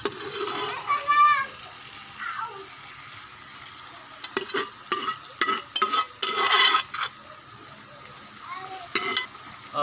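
Okra and meat stirred in a frying pan in a village kitchen, with a soft sizzle under repeated scraping strokes of a spoon and occasional splatters, close by, while a voice talks over it.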